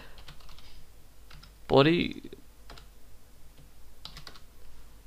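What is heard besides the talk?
typing on computer keyboard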